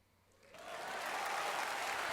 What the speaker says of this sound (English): There was a huge wave of applause.